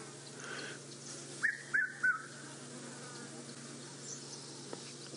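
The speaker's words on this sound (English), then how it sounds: "Red-chested cuckoo just flew over us." Three clear, whistled notes from a red-chested cuckoo flying overhead ring out in quick succession, somewhat distant, over a quiet background hum.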